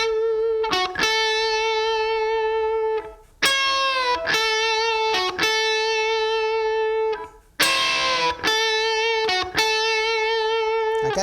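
Electric guitar plays a solo lick, a bright lightly overdriven tone with sustained bent notes and quick repeated phrases, loud and clear with no talking.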